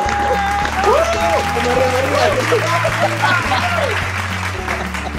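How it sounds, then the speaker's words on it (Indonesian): Studio audience applause on a talk show, a crowd clapping under a steady music bed with warbling tonal sounds and some voices, loud and continuous throughout. "Oke, tepuk tangan."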